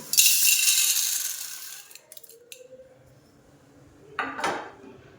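Three kinds of dried dal, with fenugreek seeds, are poured and mixed in a bowl, giving a bright rushing rattle of grains at first, then sparse small clinks and a short second burst of rattling near the end.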